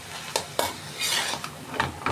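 A cooking pan clatters and scrapes while chicken pastil is stirred, with several sharp metallic knocks spaced irregularly over a soft sizzle, close and fairly loud, no talking.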